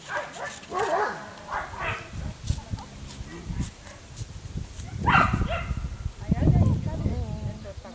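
Several dogs eager to run bark and whimper in uneven bursts, with high yips and whines close by, while people talk over them.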